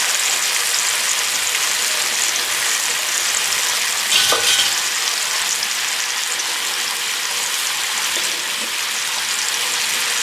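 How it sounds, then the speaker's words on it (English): Marinade poured over tofu in a hot pan gives a loud, steady sizzle throughout, with a slight surge around the middle. "And then just pour the marinade on top."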